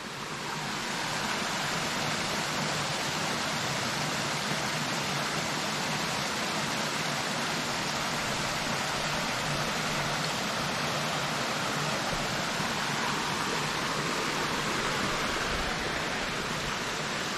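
A river rushes continuously over stones near Tanti in the Punilla valley of Córdoba, a dense, steady, close wash of water with no talk.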